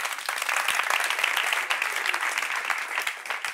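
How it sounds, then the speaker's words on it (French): Audience applause as a woman walks on during a studio debate show, a continuous crowd of hands clapping, fairly even in loudness and without speech over it. "On l'applaudit pendant qu'elle arrive."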